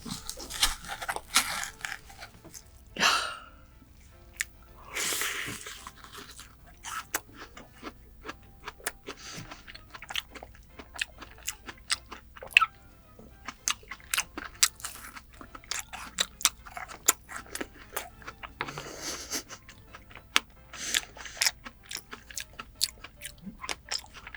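Vietnamese gac fruit being bitten and chewed close up, a steady run of wet crunches and smacking bites with brief pauses, no talking.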